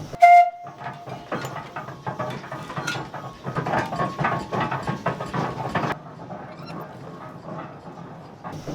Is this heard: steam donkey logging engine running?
yes